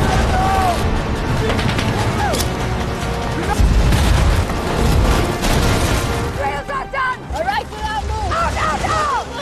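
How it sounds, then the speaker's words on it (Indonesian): Grenade blasts and gunfire in an action film where a team fights off terrorists, heavy booms and rapid shots rumbling loud and close, with someone narrating over the battle and whistling, chirping tones toward the end. "Sam dan timnya pun berusaha menjauhkan komplotan Zalam dengan melemparkan beberapa granat."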